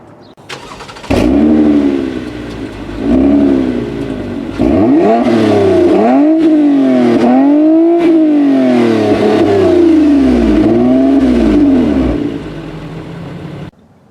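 A 2020 Toyota Avalon TRD fitted with a TRD exhaust package revs repeatedly, loud and close, the engine note swooping up and down through several blips before settling back toward idle.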